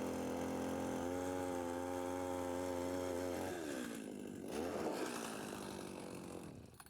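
A StrikeMaster Laser Mag motorized ice auger drones loudly and steadily, its engine pitch shifting as the blade bites through thick ice.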